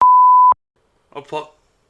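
A steady, loud censor beep at one pitch lasts about half a second, then brief speech follows after a pause.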